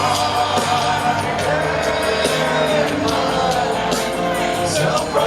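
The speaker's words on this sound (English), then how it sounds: "you can hear that echo of the crowd" A large stadium crowd sings along and cheers at a concert, a dense, sustained roar of voices over loud live music with the echo of the crowd filling the venue.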